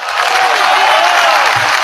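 Audience applause, a short, dense burst of clapping at steady loudness, with some crowd murmur underneath.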